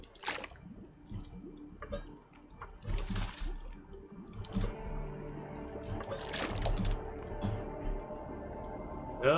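Water is prepared on a stove in The Long Dark, with soft drips, trickles and small clattering handling noises under low background noise.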